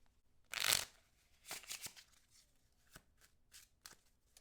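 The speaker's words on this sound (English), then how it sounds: "The deck is then shuffled" A deck of game cards is shuffled with one loud riffle, followed by several lighter taps and ruffles as the cards are squared and handled close by.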